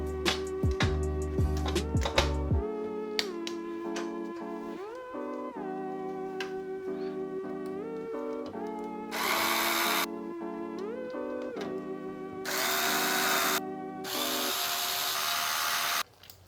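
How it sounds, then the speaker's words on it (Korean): Screws are driven into the tempered glass front side panel of an office PC case, heard as three bursts of buzzing, whirring fastening, each a second or two long, under steady background music with no speech. "분리했던 앞측면 강화유리도 나사를 전부 체결해서"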